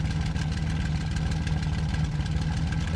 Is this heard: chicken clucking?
no